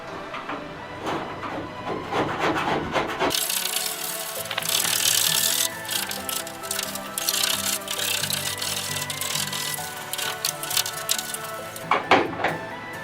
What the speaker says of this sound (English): now I'm just going to see if I can scrape some of this foamy type silicone they put on off